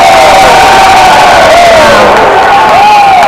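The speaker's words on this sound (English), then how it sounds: "Huge applause." A crowd roars and cheers at a British Open Rackets doubles semi-final, loud and close, with whoops and shouting voices rising over sustained clapping for a few seconds.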